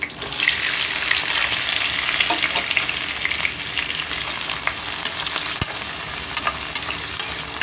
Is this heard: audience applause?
no